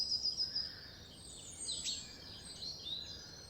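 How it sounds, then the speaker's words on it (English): Bird call outdoors on a nature walk: thin, high chirping and twittering, faint and somewhat distant, running continuously over a soft hiss of open-air ambience with no voices. "What bird call are you focusing on right now?"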